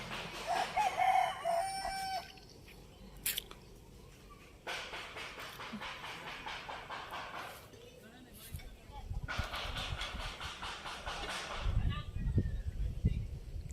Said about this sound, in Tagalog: At ito po may mga tinali rin po si Kuya Makoy na manok